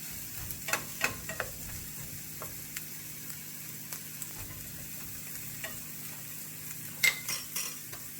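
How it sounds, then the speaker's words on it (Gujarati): Capsicum fries in a pan with a steady, soft sizzle, and utensils clink and scrape intermittently as it is stirred, with a sharper clatter near the end. "હવે આપણે એની અંદર કેપ્સિકમ એડ કરીશું અને એને બી થોડા ફ્રાય કરીશું."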